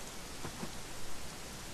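Rain in the video game Dragon Quest XI falls as a steady, dense hiss across the whole moment, with faint drops pattering on a surface and no voices.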